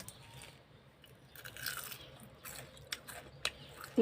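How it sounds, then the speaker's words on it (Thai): Crunchy biting and chewing on a grilled mackerel head, close and fairly quiet, with a few sharp crackling bites standing out near the end over a soft background hum. "เราก็มาชิมหัวปลาทูก่อนนะคะ"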